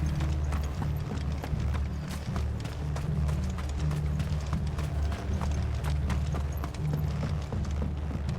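Horses gallop in the Final Fantasy XVI video game, a steady clip-clop of hooves running over a dense, continuous low rumble of game sound and music throughout.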